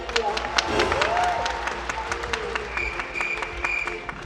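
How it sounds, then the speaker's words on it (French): An audience at the Polymanga 2024 cosplay contest applauds cosplayer Belle. Dense, steady clapping from a large crowd fills the hall, with a faint voice or tone running underneath. "applaudissez chaleureusement Belle"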